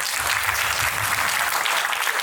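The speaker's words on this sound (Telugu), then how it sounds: "మీ అందరికి ఒకసారి బిగ్ క్లాప్స్" A crowd claps loudly and continuously at an awards ceremony in a resort, dense applause filling the room without pause.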